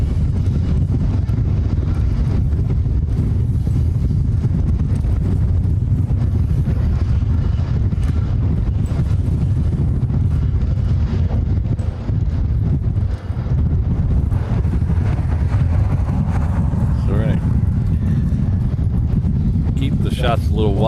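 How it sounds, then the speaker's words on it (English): Strong gusting wind buffets the microphone outdoors at a plane-spotting live stream, a loud continuous roaring rumble that covers everything, with faint tonal sounds near the end. "This is by far the worst wind we've had since I started doing this live stream."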